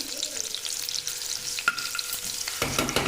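Food frying in a pan on a gas stove, a steady close sizzle with stirring scrapes, growing louder and fuller toward the end.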